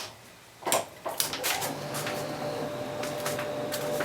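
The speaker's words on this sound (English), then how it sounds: "open up the vent, turn on the extractor" A dust extractor switched on in a woodworking shop: a few clunks and knocks come first, then a steady motor hum with a rushing airflow that holds constant and close for the remaining seconds.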